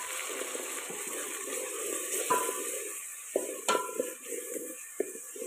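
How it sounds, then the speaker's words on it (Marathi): Onions fry in a pan over a wood-fired stove for a village-style mutton curry, a soft steady sizzle broken by a few sharp clinks of a spoon scraping and stirring against the pot. "कांदा आपल्याला छान मस्त सोनेरी कलर येईपर्यंत तळून घ्यायचा आहे."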